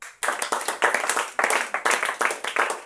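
A church congregation claps its hands in a quick, steady rhythm, loud and close, the sharp beats repeating evenly for a few seconds with no talking.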